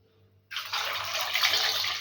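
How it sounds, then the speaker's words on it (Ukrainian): Cold water suddenly starts gushing into a pot, a steady continuous splashing pour that holds for a couple of seconds. "І заливаємо холодною водою."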